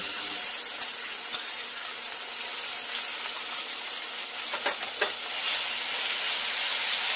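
A ground paste of whole cumin and green chilies fries in a pan for a few seconds, giving a steady, moderate sizzle with light stirring clicks and a few soft taps.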